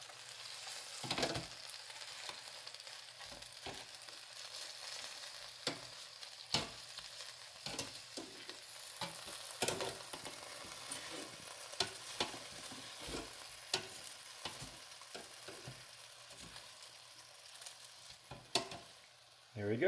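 BBQ-sauced chicken drumsticks are flipped in an air fryer: a faint, continuous sizzling hiss runs throughout, dotted with scattered clicks and knocks from handling.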